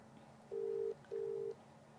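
Outgoing telephone call ringing on the line: two steady electronic tones, each about half a second long, separated by a short gap, quiet and clean with no voices.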